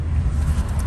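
A truck pulls up at a house, its low engine rumble steady and close with some wind buffeting for about a second.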